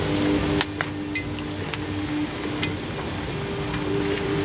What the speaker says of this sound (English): Take your brake tool, clean up with some brake clean, shove it in the hole.